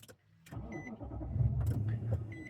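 A Nissan Titan truck engine cranks and starts, a short, close whir that catches into a steady idle rumble.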